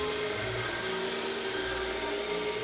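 Wood lathe spinning a segmented wooden blank while a thin ring is sliced off, a loud continuous whir with a steady droning tone and no pauses.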